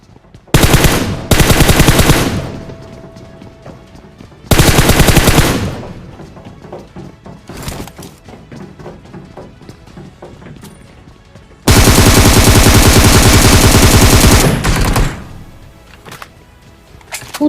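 Automatic gunfire in a shooting video game rattles out in three long, loud bursts, with scattered single shots and short volleys in between.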